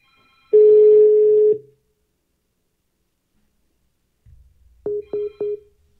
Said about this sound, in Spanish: Oye Siri, márcale a Rubén Geek. Llamando a Rubén Geek celular